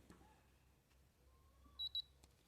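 A coating thickness gauge emits two short, high electronic beeps near the end of a quiet stretch during calibration on a metal plate, with faint handling clicks and low room hiss before them.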